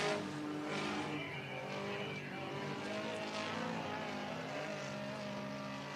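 Race cars roar down the back straightaway into turns three and four at Cottage Grove Speedway, Oregon, a continuous layered engine drone at mid-distance with several motors overlapping and a slight swell and fade as the pack passes.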